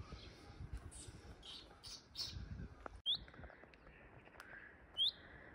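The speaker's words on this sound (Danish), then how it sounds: "Prøv at høre fuglen, den sidder lige der." A small bird perches close by outdoors and gives a few short, sharp chirps over faint background noise and rustling.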